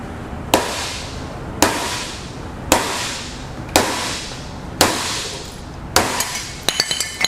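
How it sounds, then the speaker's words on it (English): A mechanical safe lock is battered off with a hammer during a burglary torture test. Six heavy, ringing metal strikes land about a second apart, each decaying slowly, followed by a quick burst of lighter clinks. "we're going to beat this mechanical lock off"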